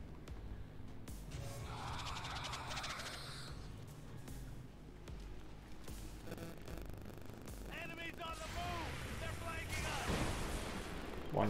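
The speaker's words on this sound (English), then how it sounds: "our Overwatch shots are precise as always" Overwatch gunfire in XCOM 2: Long War of the Chosen, heard as several sharp reports and booming blasts across the clip against a busy game soundscape, with a voice talking in places.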